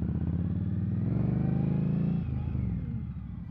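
An Indian Scout cruiser motorcycle engine runs close by with a steady, throaty rumble that swells, then eases back a little after about two seconds.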